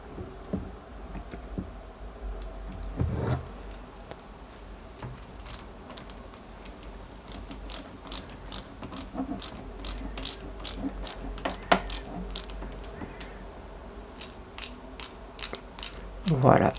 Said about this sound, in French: Et on vient y mettre déjà une première vis.